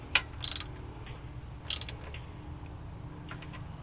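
Ratchet snugging down thermostat housing bolts on a Chevy 327 engine, giving a few short bursts of quick clicking pawl ticks at a moderate level, close by, over low background hum.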